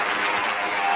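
A short burst of dense, steady applause from a gathered crowd honoring a former marching band squad, loud and continuous for the whole second with no clear breaks.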